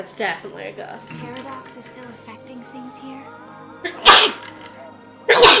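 Sharp, loud sneezes burst out close to the microphone near the end, after a stretch of calm speaking voices over soft game music from Final Fantasy XIII-2.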